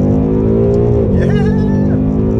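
A Ford Mustang GT base model accelerating hard, with a loud, close engine roar that climbs steadily in pitch, briefly dips during a shift and then pulls on, while a voice exclaims over it.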